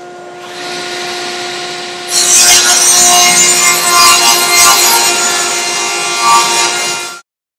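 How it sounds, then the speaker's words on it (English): Table saw cutting wood in a workshop with dust collection running: a steady loud motor whine with a tonal hum, then a harsher rasping roar as the blade bites into the board for several seconds before stopping abruptly. "when you're cutting some wood, it does get a little bit louder"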